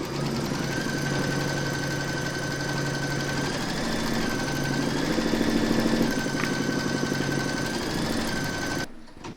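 An embroidery machine stitches fabric held in a hoop, a steady fast mechanical whir with a rapid needle rhythm and a sustained whine, running continuously nearby until it stops abruptly at the end.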